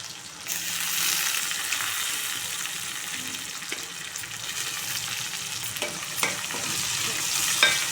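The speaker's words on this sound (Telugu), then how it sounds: "గడ్డ పచ్చిమిర్చి ఎల్లిగడ్డ మంచిగా ఫ్రై అయినాయి కదా" Onion, green chillies and garlic fry in oil for gongura pappu, a close, steady sizzle with scattered stirring clicks and scrapes, no voices.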